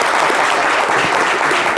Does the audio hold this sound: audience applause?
yes